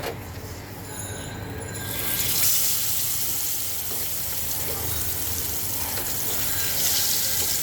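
Fish pieces dropped into hot oil sprinkled with salt and turmeric, a harsh broadband sizzle that swells after the first couple of seconds and stays loud and steady to the end.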